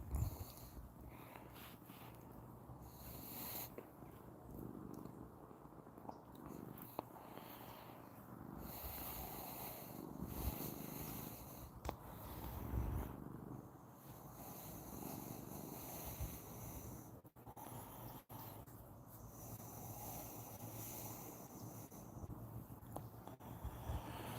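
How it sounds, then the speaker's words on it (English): A cat at a mountain cat sanctuary purring big, a continuous low rumbling purr that holds steady throughout, close and fairly soft, with breathy snorts. "He's purring big."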